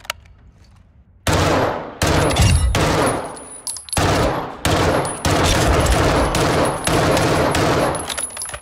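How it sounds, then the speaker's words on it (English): Repeated three-round bursts from the Lachmann Sub in Call of Duty Modern Warfare 2 (2022), loud sharp volleys starting after a quiet second and recurring about every second with short gaps, no talking. "Well, this is a three-round burst weapon. The Lachman sub."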